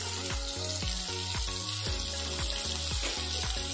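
Chopped onion dropped into hot oil with reddened garlic, giving a loud, steady close-up sizzle and crackle that fills the whole moment, with no talk.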